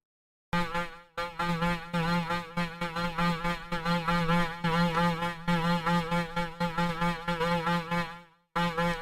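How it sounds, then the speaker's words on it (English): A malfunctioning refrigerator gives a loud, continuous buzzing drone with a pulsing, warbling rhythm, like a strained motor humming and rattling, stopping briefly near the end. "So here's the sound that my fridge was making."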